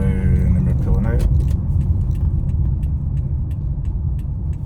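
A Toyota iQ pulls away under acceleration, its engine and road rumble loud and steady from inside the cabin, with a few sharp ticks and rattles over the top.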